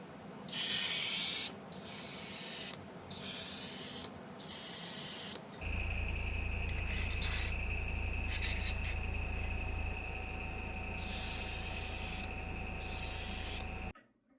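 Satin clear coat sprayed from an aerosol can onto a model feed and seed store building: several loud hissing bursts separated by short pauses, then a long continuous spray over a steady low hum, ending with two more bursts.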